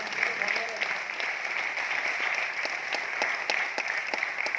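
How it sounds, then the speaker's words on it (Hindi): Loud, continuous audience applause at a business motivational event in Aurangabad, a dense crackle of many hands clapping at an even level throughout. "ताली जोरदार वाली बजाएं हमारी"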